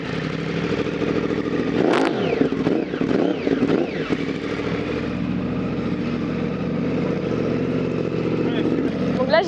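A stationary Yamaha R1 sport motorcycle revs hard several times, the engine rising and falling in sharp bursts over a steady idle, loud and close, with some mechanical clatter.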